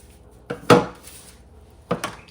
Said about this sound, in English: You spread it on here and stir it up.